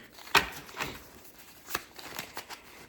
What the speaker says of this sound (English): They're a little hard to shuffle here.